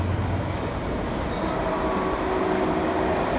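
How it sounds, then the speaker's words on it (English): A train rumbles past in a steady, loud roar with faint metallic whining, continuous throughout with no pauses. "And the train is going by."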